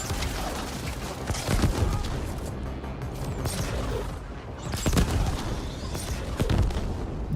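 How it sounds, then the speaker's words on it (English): Enemies blowing up in the video game RetroCity, a run of loud, dense booms and bursts with sharp peaks near two, five and seven seconds over a constant busy game din. "Everybody's just exploding."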